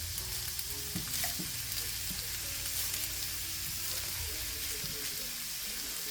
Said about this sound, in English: That way it can get a nice sear on each side of the sausage. And it won't take long for this to sear up.